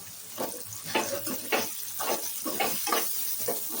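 Bitter gourd and tomato curry with salt and turmeric being stirred in a pan, a spoon scraping through the mixture in repeated strokes, roughly one every half second, over a steady close sizzle.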